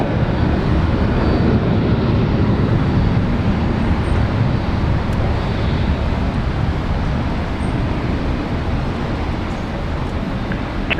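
Jetstar airliner departing Brisbane Airport toward Hobart, a broad, steady engine roar heard from a distance, loud and sustained without a break, easing slightly toward the end.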